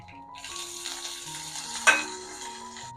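Curry leaves, mustard seeds and urad dal crackle and sizzle in hot oil as a continuous close fry, with a stirring scrape and a small clink partway through.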